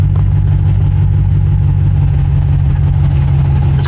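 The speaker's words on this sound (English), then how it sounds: "I can hear that alternator." Idling Sierra truck from the 2007 to 2013 era, fitted with a Mechman 400 amp alternator and 1/0 gauge big 3 wiring: a loud, constant low engine hum with a steady tonal drone throughout, no talking.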